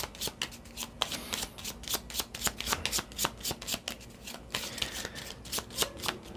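Tarot cards being shuffled by hand in a quiet room, a rapid run of crisp riffling flicks and soft slaps repeating steadily throughout, close and fairly loud.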